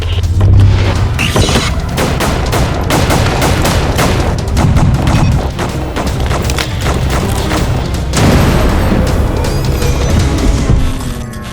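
Turret gunfire in a shooter video game, loud rapid bursts and booming impacts that keep coming throughout, with a brief lull before another heavy barrage.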